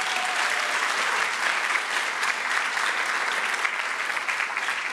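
Steady, dense applause from a graduation audience at an educational leadership ceremony, sustained evenly throughout as a crowd claps for a graduate.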